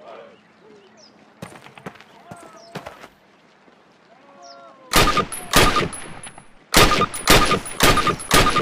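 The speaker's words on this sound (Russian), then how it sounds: "Подойди к ограждению и сделай 6 выстрелов по мишени." Gunfire from a Call of Duty shooting-range target drill rings out in the second half: loud bursts of shots, two clustered groups, each followed by a bright ringing tail, after a quieter stretch of light clicks and ambient noise.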